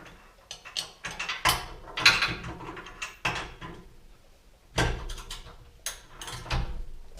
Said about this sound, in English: We're about to tighten the last bolt